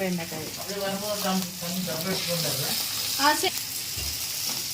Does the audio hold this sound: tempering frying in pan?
yes